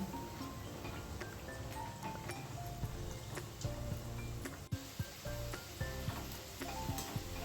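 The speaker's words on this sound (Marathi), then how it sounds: "अशा पद्धतीने दुसरी बाजूही आपल्याला छान सोनेरी रंग येईपर्यंत तळून घ्यायचे आहे." Sabudana vada deep-frying in hot oil, a continuous bubbling sizzle with occasional clicks and a brief tap, fairly quiet and without talk.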